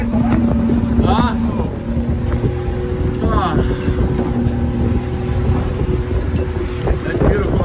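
A motor dinghy runs on open water off Costa Rica, its steady engine drone mixed with heavy wind buffeting and water noise throughout, while people talk briefly over it.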